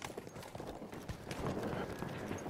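A horse in the video game Battlefield 1 gallops with rhythmic hoof clip-clops building louder, mixed with game ambience and some soft talk underneath.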